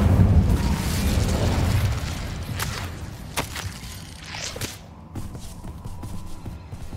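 A fire spell bursts out in Hogwarts Legacy with a loud whooshing blast up front, then sharp crackling snaps and flaring pops that fade into a quieter rumbling bed.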